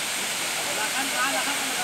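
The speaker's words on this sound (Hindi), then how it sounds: "एक खपोली जीनत वाटरफॉल पे आए हुए हैं" Steady, full rushing roar of the Khopoli Jinat waterfall, close and constant, with faint voices blended into the wash of falling water.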